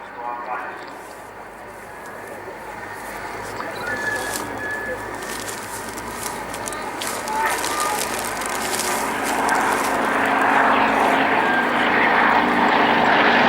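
Propeller aircraft of the Aerostars aerobatic team fly a caterpillar loop at an airshow in Cosford. A steady engine drone builds louder over time while a commentator talks over it.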